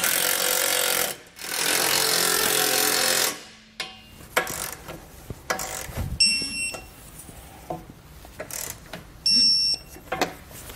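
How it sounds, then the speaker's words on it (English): A 13 mm socket tightening hitch bolts on a 2014 Volkswagen Jetta, starting with a loud, steady buzzing run of a power driver for about three seconds, followed by scattered clicks, clanks and short bursts of tool noise. "I'm just going to go ahead and tighten our bolts down using our 13 millimeter socket."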